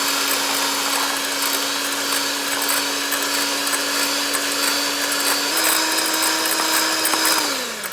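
An electric hand mixer beats egg whites with sugar for chocolate mousse, giving a steady, close motor whine for the whole stretch. Its pitch steps up slightly near the end, then winds down as it stops.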